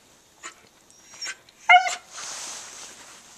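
A dog whimpers and whines close by, with a few short, high whines early on, a louder cluster of yipping whimpers in the middle, then a softer, breathy trailing whine, with no talking.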